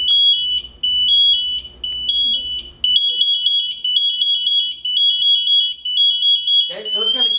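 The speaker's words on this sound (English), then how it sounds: "If she stays real still, it's going to start making a noise, and it's going to get louder and louder and louder." A personal safety alarm from a fire safety demonstration emits a steady, loud high-pitched electronic tone with rapid repeating pulses. It sounds nearly continuously, and voices briefly appear under it at the start and end.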